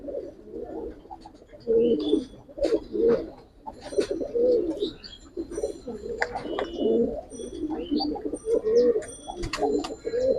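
Giribaz pigeons coo close by in repeated, overlapping throaty phrases, with occasional sharper chirps and faint background noise, at a market or loft.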